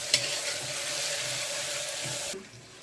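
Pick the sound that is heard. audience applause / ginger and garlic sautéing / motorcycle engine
ginger and garlic sautéing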